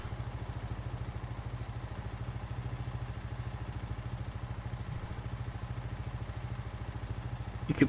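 Small engine of an Anderson vehicle in Farming Simulator 19 idles right after starting, a steady fast low putter with a faint clatter, even and close.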